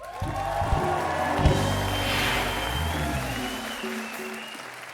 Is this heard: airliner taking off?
no